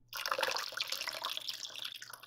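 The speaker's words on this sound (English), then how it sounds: "Now, we're going to add 2 cups of lemon juice." Lemon juice pours onto a spatula in a steady, close stream for a couple of seconds, a soft continuous splashing trickle with no talking.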